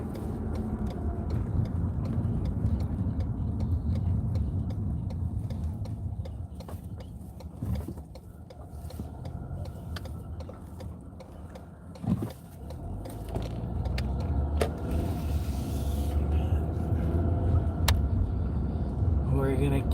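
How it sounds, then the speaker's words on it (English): A car driving home, with steady road and engine rumble throughout and occasional clicks and knocks inside the cabin, while a person talks over it. "as I drive home."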